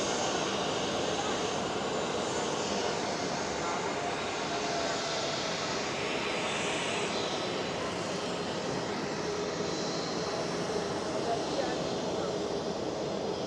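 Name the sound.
Airbus A320neo airliner jet engines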